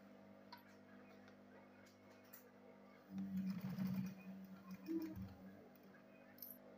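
Sewing machine stitching a zip onto a handbag, a short burst of motor whirring and needle ticking for about two seconds, then a few lighter stitches, fairly quiet against a low background hum.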